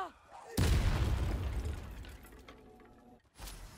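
A Confringo spell from Hogwarts Legacy goes off as a sudden loud booming blast that trails into a rumbling decay, followed by a short second burst near the end.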